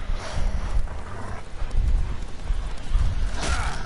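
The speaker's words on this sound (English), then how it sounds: "Just gonna ride my horse." A horse gallops in the video game The Witcher 3, its hooves pounding in a quick, steady, close clip-clop rhythm with a light rush of wind behind it.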